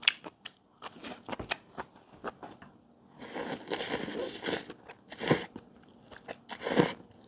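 Close crunchy chewing of Mama black instant noodles loaded with vegetables: sharp crisp bites and crackles come in uneven clusters, with quiet gaps between, and no voices.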